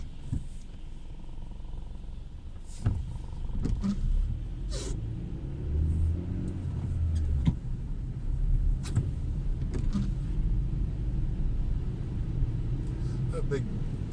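A car drives along a street in central Lima near Plaza San Martin, its steady engine rumble and road noise continuous and fairly close, with a few sharper passing sounds and a voice talking over it.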